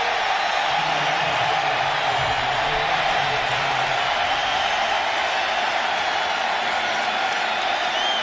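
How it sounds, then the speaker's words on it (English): Pro-Raiders crowd at the LA Coliseum roaring after a touchdown in a preseason game against the Rams, a sustained, broad wash of cheering and applause throughout, with a commentator's voice faintly under it. "the pro Raider crowd reacts here in the Coliseum in LA"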